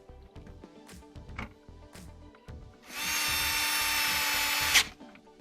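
A power drill tightens the cover back on a GMC Yukon cooling system, whirring loudly and steadily for about two seconds after a few light clicks and taps of handling.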